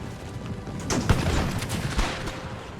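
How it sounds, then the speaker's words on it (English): Cavalry pistol volley in Empire Total War, a ragged cluster of gunshots crackling over about a second, followed by scattered distant reports amid battlefield rumble. "Fire your pistols."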